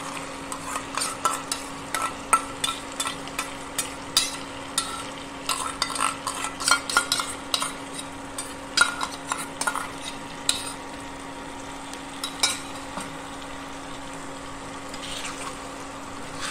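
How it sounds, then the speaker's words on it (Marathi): Stirring thick curd into roasted masala in a pan for chicken biryani, with steady scraping and sloshing strokes and a light sizzle, a constant low hum running underneath, no talk. "व्यवस्थित एकसारखा मिक्स करून घ्या त्या दह्याला."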